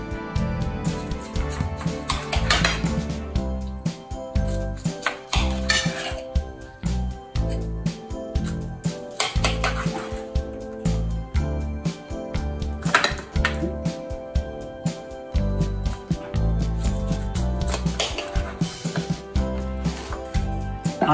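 Repeated knife strokes and clinks of a sharp blade cutting through hot barbecue-sauced ribs, with scraping and tapping against a board or plate in a steady, busy rhythm, no talking.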